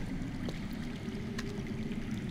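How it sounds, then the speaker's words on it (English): Running water underground in Telltale's Game of Thrones, a steady faint rushing and trickling murmur with a few soft clicks, continuous and distant-sounding, with no voices over it. "I hear water. From underground."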